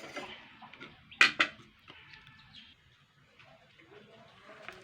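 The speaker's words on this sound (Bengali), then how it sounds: "তো দেখুন আমি কিন্তু কড়াই বসিয়ে দিয়েছি" A wok (kadai) is set down on the stove while making chilli chicken, giving a couple of sharp metallic clanks close by, followed by quieter light kitchen clatter and faint background sounds.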